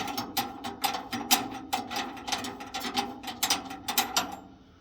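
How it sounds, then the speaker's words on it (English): A hex-head screw being loosened on an All Steel pedestal tanker desk, a rapid series of metallic ratcheting clicks in uneven bursts, close and fairly loud, fading toward the end. "And that has a flathead screw with a hex head that you'll have to loosen to get it out."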